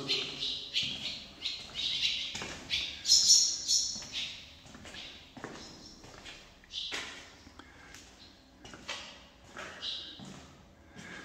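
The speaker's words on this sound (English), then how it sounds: "Lots of birds." Many birds call at Fort Mott beneath the old gun placements, with repeated chirps and squawks in quick overlapping bursts, fairly close and echoing, with a few soft thuds of footsteps.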